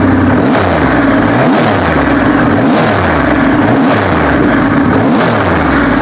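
A 2021 Triumph Rocket 3 R 2500cc three-cylinder motorcycle engine roars continuously up close, its pitch swelling and dipping in repeated revs at a steady rhythm.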